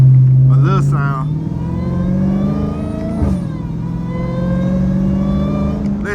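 A Dodge Hellcat's engine rumbles and revs nearby in one long rising pull, with someone talking over the start of the run.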